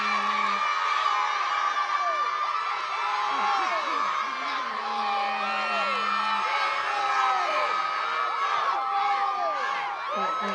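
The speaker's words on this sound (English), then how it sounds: "Can we get a nice cheer now for the second half?" High school football crowd at a Fitchburg versus Shepherd Hill game cheering for the second half, sustained whoops, shouts and children's voices in a loud continuous roar with a horn-like tone.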